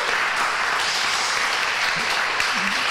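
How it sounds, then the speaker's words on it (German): Sustained applause fills a hall at a lecture event on Dag Hammarskjöld's humanist legacy with a Swedish consulate, as the audience claps for two professors; the sound is even and continuous with no talk over it. "Sie dürfen auch einen kleinen Applaus spenden."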